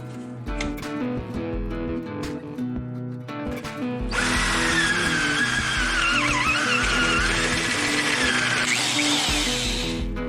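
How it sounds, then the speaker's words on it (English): A power drill bores through metal with cheap step drill bits, starting with loud broadband grinding and whine that holds steadily for several seconds near the mic, preceded by shorter bursts of handling noise. "Finally get to test out these super cheap step bits."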